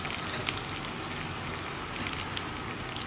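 Onions frying in hot oil with cardamom and cloves for a Bengali chicken kosha, a steady soft sizzle with occasional crackling pops, fairly quiet and continuous.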